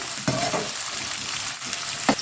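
Onions sautéing in a pan, a dense, loud frying hiss with a couple of scraping stirs at the start and near the end.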